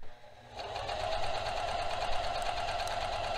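A sewing machine hums steadily at a moderate level after a brief quiet start as it stitches a hem on a top.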